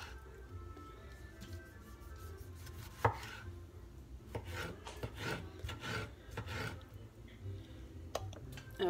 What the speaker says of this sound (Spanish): Vamos a picar el jitomate.